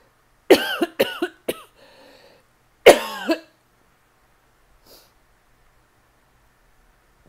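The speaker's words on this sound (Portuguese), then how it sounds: "Aí vai dando a tosse, né?" A person coughs several times in quick, harsh bursts close to the microphone, then gives one more heavy cough after a short pause, leaving near-silence afterward.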